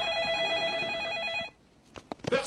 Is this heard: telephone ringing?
yes